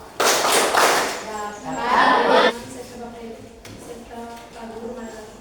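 A classroom of students performs the rhythmic 'tepuk pulang sekolah' end-of-school clap, a burst of group clapping and thumps with voices chanting along, followed by quieter talk.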